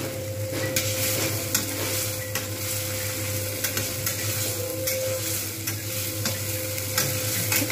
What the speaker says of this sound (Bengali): মাঝে মাঝে এইভাবে কিন্তু নাড়িয়ে নিতে হবে।